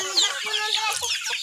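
A chicken in a rural backyard clucks and squawks several times in quick succession, close and fairly loud, with no one talking over it.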